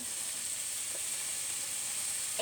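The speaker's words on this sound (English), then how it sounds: "we're gonna saute the ham in the butter" Slivered ham sautéing in butter in a skillet gives off a steady, even sizzle that holds at a moderate level for the whole stretch, with no talking over it.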